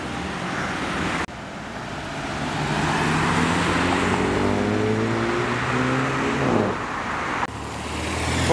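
Cars passing on a street in Curitiba, Brazil, including a Porsche 911 and a 1966 Ford Mustang hardtop; a loud, sustained engine drone swells as a vehicle goes by, with falling pitch and traffic noise around, no talking.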